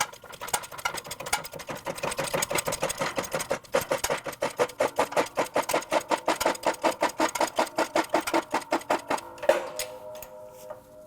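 A press drives a new front wheel bearing into the hub of a 2003-2008 Toyota Matrix, giving a long run of rapid, evenly spaced mechanical clacks up close that stop abruptly near the end.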